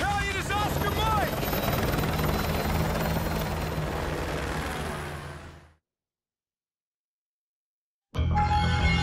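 A helicopter in Call of Duty: Modern Warfare roars loudly and continuously with heavy rotor noise and faint chirps, then fades into silence before abruptly cutting back in at full volume.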